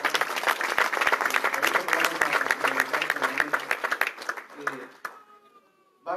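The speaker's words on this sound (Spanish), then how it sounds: "Un aplauso a ese tremendo equipo de trabajo." A small audience claps for a work team, a dense patter of applause that fades out near the end, with voices heard under it.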